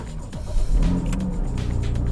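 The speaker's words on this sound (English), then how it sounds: "we can now start the car for the first time since the day of owning this car" A repaired Porsche engine fires up for the first time in a close, loud start, swelling into a deep rumbling idle with a slight rev that holds steady afterward.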